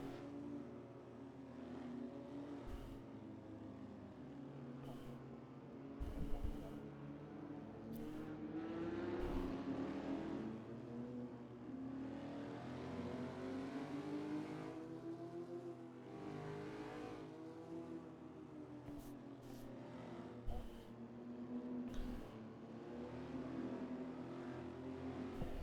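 GT4 race cars in the Assetto Corsa racing game at Lime Rock, engines droning and rising in pitch as they roll through a formation lap, a steady, moderately quiet mechanical hum with occasional revs.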